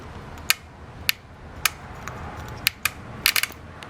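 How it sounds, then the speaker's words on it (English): Sharp, dry clicks from the VTEC solenoid of a boosted Honda Accord with an F23 engine, fed directly from the battery. About eight irregular snaps, some in quick bursts, sound close over a low background hum, with no talking. "So you just unplug the solenoid and then you can hear it click."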